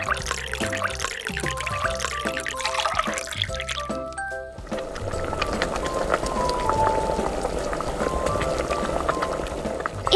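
Water for cooking king crab legs running and bubbling steadily, a soft continuous liquid wash after a short stretch of light clinking and music-like tones, moderately quiet and close.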